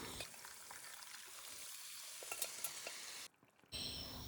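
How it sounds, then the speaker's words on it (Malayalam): Precooked beef for a Kerala beef roast goes into a hot pan of pepper-spiced masala and fries with a steady close sizzle, stirred now and then, with a brief pause near the end before the sizzling picks up again. "ഇനി അതിലേക്ക് വേവിച്ച് വെച്ചിരിക്കുന്ന ബീഫ് ചേർത്ത് കൊടുക്കാം."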